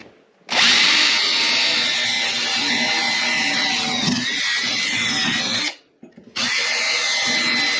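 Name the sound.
power drill drilling out rivets on a latch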